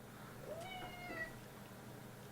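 A cat meows a couple of times, faint and thin over a quiet background hiss.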